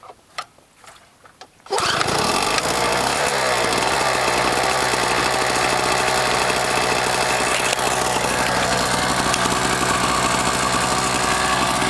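A Honda EU2000i portable generator, two years old, after a cold start with the choke on: a few quiet handling knocks, then a loud, steady close engine drone that holds at an even pitch.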